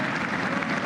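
Applause at a State of the Union broadcast: a brief, even wash of crowd clapping, dense and steady throughout.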